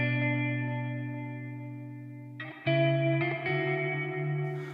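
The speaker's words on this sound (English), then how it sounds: "This is sort of a clean guitar sound with some compression and a lot of reverb," A clean electric guitar with compression, heavy reverb and a touch of delay rings out in sustained, layered chords, each new strum blooming over the long decaying tail of the last, played alone with no voice.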